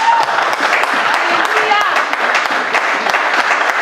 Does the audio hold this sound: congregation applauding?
yes